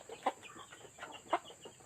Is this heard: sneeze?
no